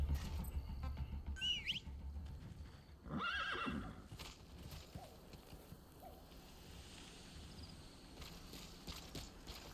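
In a Metal Gear Solid 5 game scene, a horse whinnies loudly with a rising-falling neigh over a low rumbling background, followed by softer scattered hoof and game sounds.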